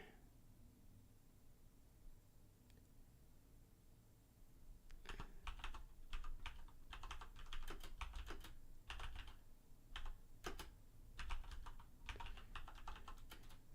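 Typing on a computer keyboard: after a few quiet seconds, a steady run of soft, close key clicks and taps in irregular bursts, alone without talk.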